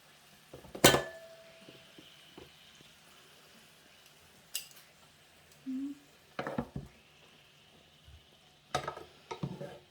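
Kitchen clatter as food goes into a slow cooker for pork curry: scattered clinks of dishes and utensils, a few knocks and scrapes, irregular and close, with no talking.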